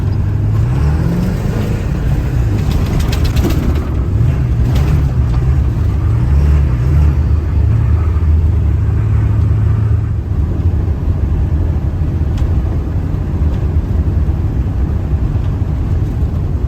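A Ford 7.3 truck engine idling after a cold start during a snowstorm, a loud steady low rumble that wavers slightly in pitch, close and continuous with no talking.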